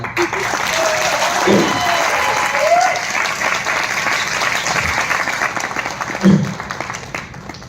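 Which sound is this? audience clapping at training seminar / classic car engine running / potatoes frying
audience clapping at training seminar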